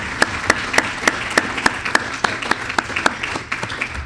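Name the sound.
audience applause for guests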